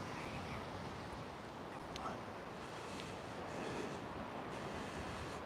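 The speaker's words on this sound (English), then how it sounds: "It's quite windy, mate." Strong wind blows along the North Sea coast, buffeting the microphone in a continuous low roar over faint surf, with no talking.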